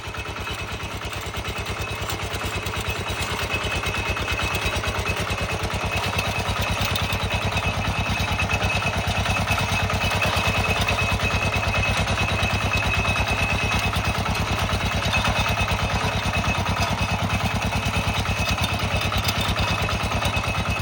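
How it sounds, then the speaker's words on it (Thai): An 11-horsepower walk-behind tractor engine runs steadily for about twenty seconds, a loud, continuous rapid chugging with a fast, even beat. "รถไถเดินตามพี่น้อง"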